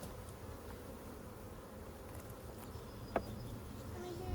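Faint, steady buzzing of honey bees around an opened hive being smoked during a honey harvest, a soft continuous drone with one brief sharp tick partway through.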